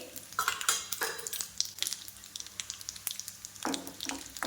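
Tadka of mustard seeds, cumin and red chili pieces with browned garlic frying in hot oil: crackling, popping seeds over a steady sizzle, with metal spoon clinks and stirring scrapes up close.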